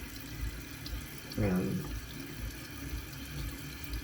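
Tap water running into a sink during a facial skincare wash, a brief splashing rush under a steady background hiss, with a short spoken word nearby.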